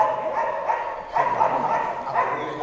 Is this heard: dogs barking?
yes